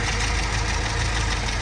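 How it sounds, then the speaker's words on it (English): Classic MGB GT engine idling after standing unused in a garage for eight years and running on old fuel, a steady, loud, close rumble with an even low throb and no talk. "she's just fired up and idling like, that is crazy"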